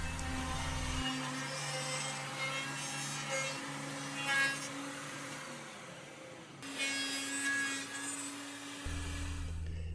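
A PantoRouter with a 6mm guide bearing in a template cutting a mortise in wood for a mallet: a steady, whining router motor with shifting pitch, a brief drop near the middle, then the cut resumes close by.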